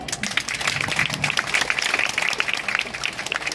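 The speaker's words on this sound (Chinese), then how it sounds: "我们是给所有的毕业生一个非常肯定的掌声" Graduates at an art school's graduation exhibition opening receive applause from the audience, a dense continuous patter of many hands clapping that carries evenly from start to finish, with faint voices mixed in.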